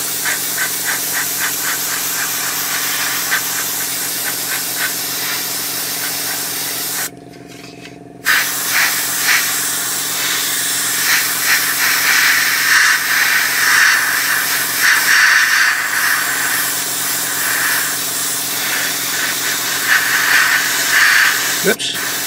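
An airbrush sprays paint in thin coats onto a 1/35 scale Takom British Chieftain Mk 10 model tank, a loud, steady close hiss that stops briefly for a moment before resuming.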